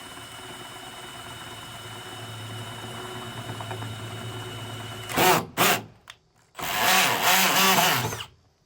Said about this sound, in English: Now we'll just start drilling our hole.